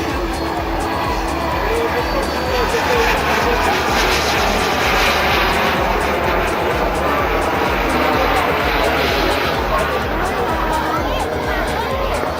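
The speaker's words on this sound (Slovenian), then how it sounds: "Pa znova nizek prelet za sledopustce." A military aircraft makes a low pass at a small-aviation air show in Lesce. Its engine roars loudly and steadily throughout, with crowd chatter and an announcer faintly underneath.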